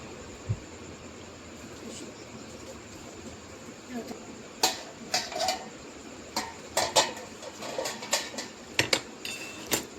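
Spoon scraping and clinking against a pot while stirring a fish head and mixed vegetable dish of potato, sweet potato, carrot and gourd, irregular taps growing busier, close over a steady background hiss.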